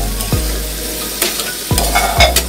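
A spoon stirs a potato and crab omelette mixture with salt in a sizzling frying pan, making a few scraping strokes over a steady close frying hiss.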